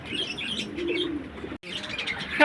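Pigeons cooing close by, low soft coos repeating with light chirps over the top and a brief pause before the calls resume.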